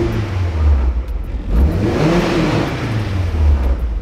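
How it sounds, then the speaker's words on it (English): A car engine revs close up as the throttle is blipped repeatedly, a loud mid-pitched rising and falling roar with brief dips between pulls. "as I blip the throttle, take a look at the revs"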